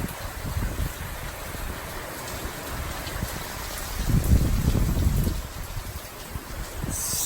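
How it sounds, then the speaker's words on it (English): Rain falls outdoors in gusty wind among shaken trees, a steady wash of patter and hiss with a heavier surge in the middle, alone without talk. "if it rains too much now and keeps escalating like it has been last hour"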